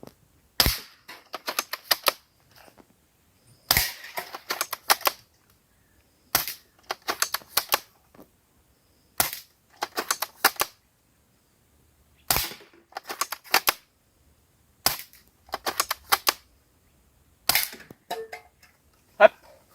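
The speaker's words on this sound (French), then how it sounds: "pour tirer sur la cible" Airsoft replica rifle firing at an outdoor field target: sharp, close snapping shots in short bursts of several rounds each, repeated about eight times with brief silent pauses between, faint voices in the background.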